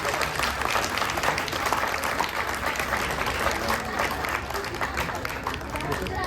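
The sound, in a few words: applause for the performers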